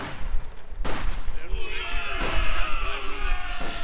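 Gunfire between Soviet Conscripts and German Grenadiers in the WWII strategy game Company of Heroes 2: loud bursts of rifle shots in a mixed battle clatter, heard under someone speaking.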